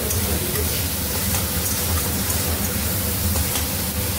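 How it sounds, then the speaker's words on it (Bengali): Masala with half a tomato sizzles steadily in a pan as it is sautéed, a continuous loud frying hiss with faint stirring scrapes throughout. "মশলাটা কষানো চলছে"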